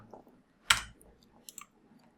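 A single sharp computer mouse click selects an item, with a couple of fainter clicks after it in a quiet room.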